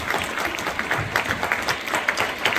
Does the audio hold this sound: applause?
yes